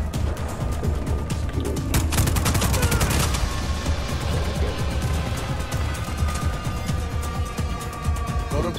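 Gunfire in the action video game Just Cause 4, loud rapid bursts of automatic shots with crashing impacts, dense at first and then thinning into scattered shots over a rumbling background.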